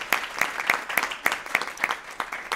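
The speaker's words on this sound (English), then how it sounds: "give you a round of applause" People at a school board of education meeting give a brief round of applause, a modest group clapping in a fairly regular rhythm at moderate distance.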